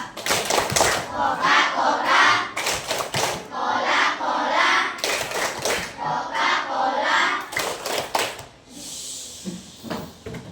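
A class of children does a rhythmic clapping chant, bursts of unison claps grouped in patterned beats alongside loud chanting voices, with a pause and faint chatter near the end.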